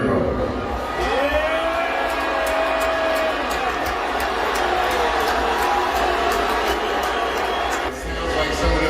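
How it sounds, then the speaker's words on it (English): An audience at a Dave Chappelle stand-up show reacting to Elon Musk, a sustained roar of crowd noise with scattered shouts and whistles, distant and continuous for several seconds. "The crowd's reaction was a little less than welcoming."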